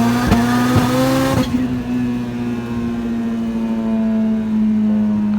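Turbocharged Honda H22 engine with a 6-pound blow-off valve spring revving hard close by, a loud rising tone that drops off, then a sustained steady drone, with no talk.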